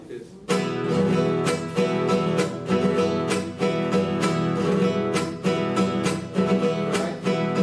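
Mariachi guitar strumming a huapango rhythm played flat and monotone, with dense, evenly repeated strokes driving steadily and loud with little dynamic change, played alone without talk.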